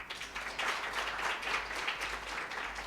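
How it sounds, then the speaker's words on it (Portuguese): A conference audience on human rights and women's rights gives a warm round of applause for Tassiana and Mukazi, dense steady clapping filling the room throughout. "quero dar à plateia a oportunidade de também dar os parabéns a Tassiana e a Mukazi por via de uma belíssima salva de palmas"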